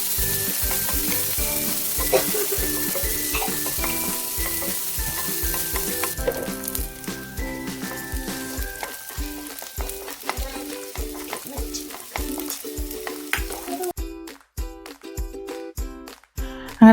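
Raisins fry in hot ghee in a pan, giving a steady close sizzle with repeated scraping stirs that knock in an even rhythm, growing sparser toward the end.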